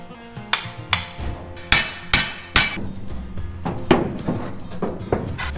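Sharp metal-on-metal hammer strikes ring out on parts of a 1960s Corvair off-road build, irregular blows, some in quick pairs, each with a bright decaying ring, loud and close with no voices.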